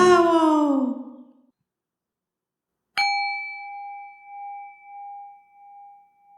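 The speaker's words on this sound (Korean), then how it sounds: "저희 작업실에 있는 금색 싱잉볼" A small golden singing bowl shaped like a little jar is struck once after a short silence, giving a clear ringing tone that sustains and slowly pulses as it fades. Speech comes before the strike.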